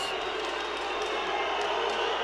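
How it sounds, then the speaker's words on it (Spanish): Crowd at a women's basketball game between Adelitas de Chihuahua and Astros de Jalisco boos loudly in a sustained wall of noise, with commentary over the top. "Con abucheo del público incluido porque pedían una falta"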